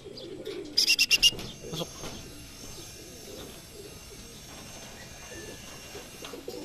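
Racing pigeons at a derby loft coo and chirp in a brief cluster near the start, followed by softer bird calls over a busy outdoor background while someone speaks briefly.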